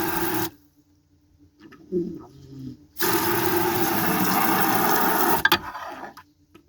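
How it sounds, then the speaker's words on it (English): Water rushes and gurgles down a sink drain inside a truck camper in a loud steady burst lasting a few seconds, after quieter clattering noises. "That beautiful noise is the drain."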